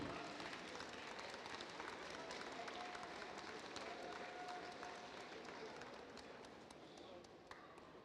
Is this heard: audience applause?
yes